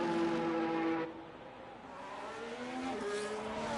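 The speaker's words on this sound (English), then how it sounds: "we'll be watching the Mercedes now going on the first hot lap of the evening" Mercedes race car engine in a racing game at Circuit of the Americas, a whining high note that drops off sharply as it passes, then builds again as the car accelerates on its hot lap.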